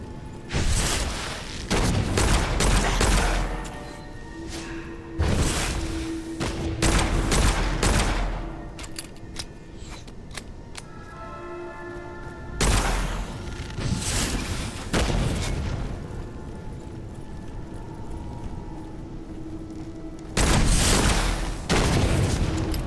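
Heavy enemy gunfire in the rogue-lite first-person shooter Witchfire, several enemies firing at once, with dense bursts of shots and booming impacts that come in repeated loud waves and a few lulls between them.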